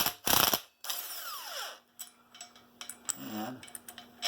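A ratchet with a 30mm socket works the castle axle nut on the rear axle of a Hisun 250 ATV. It gives a loud close burst, then scattered clicks and metallic scrapes with pauses between them.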